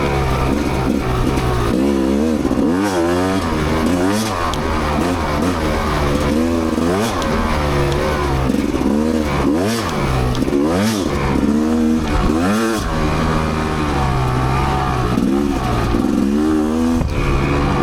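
A Rieju MRPro 300 dirt motorcycle rides a rough ATV-style forest trail, its engine loud and close throughout, revving up and down in repeated surges over a constant rumble, with no voices.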